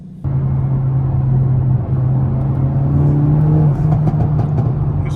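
Hyundai Elantra N fitted with a SXTH Element titanium midpipe, heard from inside the cabin as a loud, steady engine drone with a few faint crackles and pops near the end.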